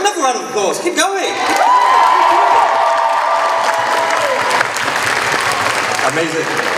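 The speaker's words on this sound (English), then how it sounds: "another round of applause" Audience applause at the Kitacon Returns 2022 awards ceremony, a dense steady clapping from a crowd that runs throughout, with scattered cheers and whoops and a voice speaking over it.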